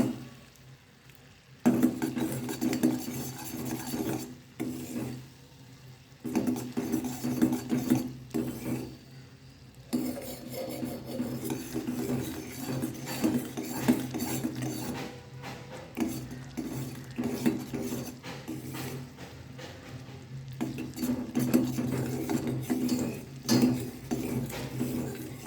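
Sugar being stirred in a pan as it caramelizes to a honey-dark colour for a rice-flour pudding cake, giving a steady run of scraping, clicking stirs against the pan, close and moderately loud with no talk.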